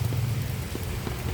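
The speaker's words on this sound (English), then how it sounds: "Raining is still on." Rain falls steadily on Padma Street, a continuous close wash of patter with a low rumble beneath, with no voices over it.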